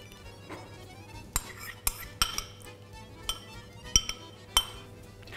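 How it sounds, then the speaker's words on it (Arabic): Sugar and melted butter are stirred together in a bowl for chocolate muffin batter. A few bright clinks of utensil against the bowl sound close and sparse over a quiet background hum. "هنقلب برضو تقليبة"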